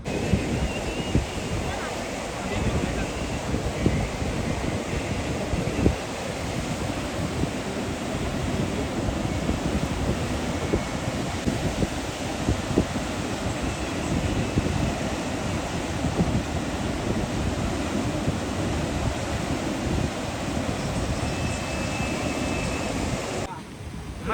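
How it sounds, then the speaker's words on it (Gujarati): Sea waves roll and crash at Dwarka beach under strong, steady wind buffeting the microphone, a loud continuous roar of surf lasting throughout. "બહુ મસ્ત પવન આવે છે. મોજા પણ મસ્ત છે, જોઈ લો."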